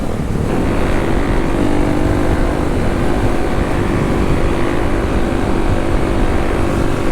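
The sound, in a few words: Kawasaki KLX dual sport motorcycle engine while riding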